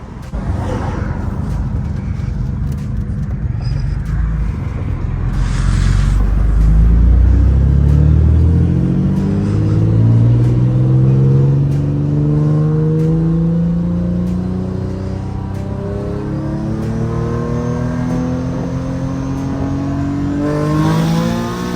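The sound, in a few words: Nissan 350Z turbocharged engine accelerating under boost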